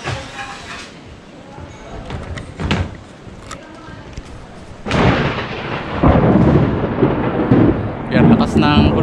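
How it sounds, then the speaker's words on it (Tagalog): Loud thunder during a rainstorm over a roofing installation site, a sharp crack near the midpoint followed by a sustained heavy rumble; faint talk and work sounds come before it. "Yan, lakas ng kulog."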